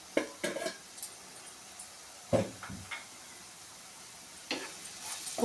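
Onions frying in a pan with salt for a chickpea curry give a quiet, steady sizzle, broken by a few sharp stirring and scraping clatters spaced a second or two apart.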